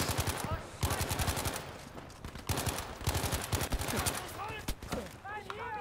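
Rapid automatic gunfire in the World War II shooter Battlefield V, dense bursts of shots rattling loudly in quick succession with short gaps, with scattered sharper impacts and whistling effects near the end.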